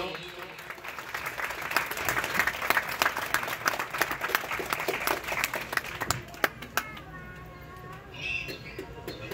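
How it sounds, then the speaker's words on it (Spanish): Audience applause at a gathering, a crowd clapping in a brisk, dense patter that thins toward the end, with a few voices and scattered shouts among the claps. "Señores, un fuerte aplauso para el abuelito,"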